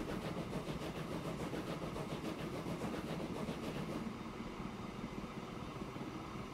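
A train in the video game Transport Fever rolls along with a steady rumble and rhythmic clickety-clack of wheels. The sound is loud and continuous and shifts to a smoother tone partway through.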